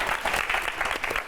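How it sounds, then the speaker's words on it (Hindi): Audience in a live TV studio at a mind-reading magic show claps together, a dense steady wash of applause throughout the short moment, fairly close and full. "अपने लिए तालियां बजा दो एक बार आप सब।"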